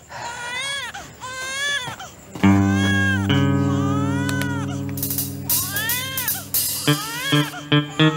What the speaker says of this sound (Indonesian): Siapa mainan handphone malam-malam? Ringtone-nya kayak suara bayi.